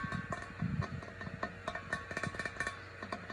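A series of irregular knocks and taps on a hollow metal tank, sharp close hits spaced unevenly, some sounding duller than others, with quiet background between them.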